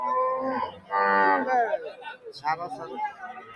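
Cattle low loudly nearby at a cattle market before Qurbani, a couple of drawn-out moos with people chattering around them.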